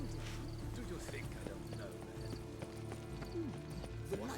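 In The Witcher 3, a horse's hooves clip-clop in a steady rhythm as it is ridden, with a low rumble running underneath, faint and mixed into a background of game sound.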